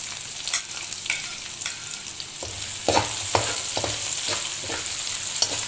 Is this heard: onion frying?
yes